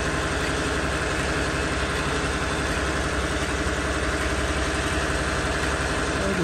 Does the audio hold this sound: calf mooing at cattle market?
no